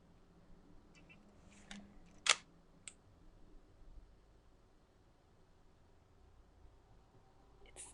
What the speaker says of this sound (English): of a super slow shutter speed, so 1 second actually